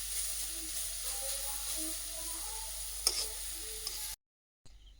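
Cabbage frying in a pan for homemade chow mein, a low steady sizzle with faint tonal hum, a couple of small clicks from the utensil, then a short silent gap before the sizzle returns.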